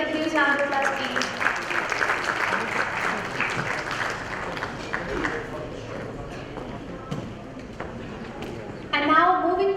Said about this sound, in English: Let's welcome her with a huge round of applause, please